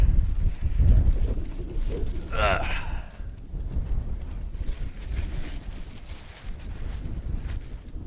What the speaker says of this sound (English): Wyoming wind.